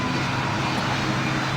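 Airplane engine drone, apparently a Boeing 747 shuttle carrier in a flight video game, heard as a steady, loud broadband roar that holds for the whole moment without talk.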